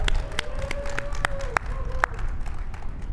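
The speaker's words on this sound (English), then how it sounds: "I want to give Chung Yen and the entire staff just a round of applause" Audience at a fundraising gala applauding in a hall, a steady, dense wash of clapping with a few sharp whistles cutting through.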